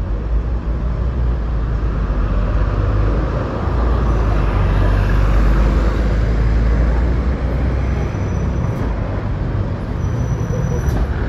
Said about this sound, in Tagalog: Traffic po dito.